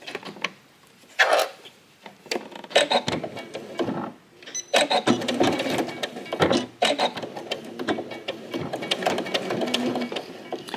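A sewing machine stitches a lining seam on a pouch in quick whirring bursts separated by short pauses and small handling clatter, close and moderately quiet.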